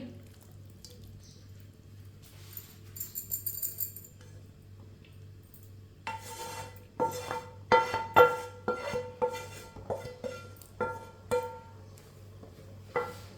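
Spices being stirred into boiled white chickpeas in a wok: after a quiet stretch with a few faint clinks, a spoon scrapes and knocks against the metal in an irregular run of clear, close taps and wet squishing.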